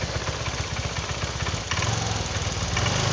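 A Honda Vario 125 scooter engine runs steadily at idle after its fuel injector was cleaned, a close, loud, even chugging throb that swells slightly partway through, with no voices.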